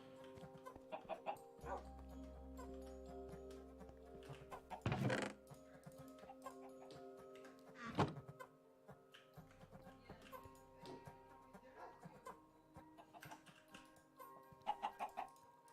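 Chickens in the Minecraft video game Sky Factory 3 cluck in short, scattered bursts over a low, steady hum of game sounds, with occasional louder blips and clicks.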